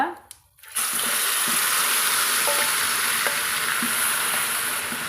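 A steady, loud sizzle of pickle (Indian citron pickle) frying in hot oil runs throughout after a brief stirring clatter at the start.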